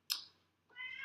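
A cat meows twice, close and fairly clear: a sharp bright first cry, a brief pause, then a longer drawn-out meow, over a quiet background with no talking.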